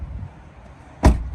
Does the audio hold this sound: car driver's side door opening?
yes